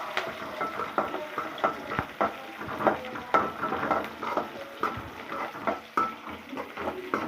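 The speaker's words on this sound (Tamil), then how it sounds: "நல்லா கொஞ்சம் பொன்னிறமாக வர வரைக்கும் வதக்கணும். வெங்காயம் வேகணும்." Onions for egg curry are stirred and sautéed in a pan, with a soft sizzle under repeated scraping and clinking strokes of a utensil against the metal, close and fairly quiet.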